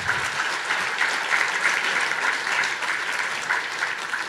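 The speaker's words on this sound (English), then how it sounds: "Give them all a round of applause again." Steady audience applause at a nutrient management practitioners program, a dense, even clapping that fills the whole stretch without letting up.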